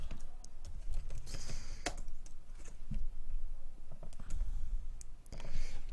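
Typing on a computer keyboard while entering Excel VBA code: a steady run of close, crisp key clicks with short pauses and a few sharper taps, no voice.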